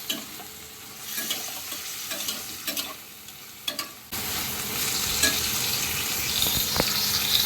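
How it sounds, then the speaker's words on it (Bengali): Oil sizzles steadily as chicken pieces fry in a pan, with scraping stirs and clinks; the frying grows louder and denser midway through. "আমি এই যে চিকেনগুলো ভেজে নিচ্ছি"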